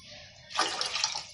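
Water poured into peanut pachi pulusu, a raw tamarind soup, while it cooks: a short, soft gush of splashing liquid that starts after a quiet moment and runs for under a second.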